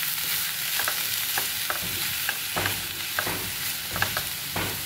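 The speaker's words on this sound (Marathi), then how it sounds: "आता आपण पुरण परतायला घेतोय." Chana dal puran is stirred and sautéed in a kadhai on a gas stove. A spoon scrapes the pan in steady, repeated strokes over a continuous low sizzle, close and fairly loud.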